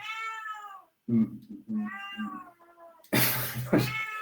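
A cat meows repeatedly indoors, several drawn-out, fairly close calls spread over a few seconds, the last ones harsher and more insistent, with no speech over them.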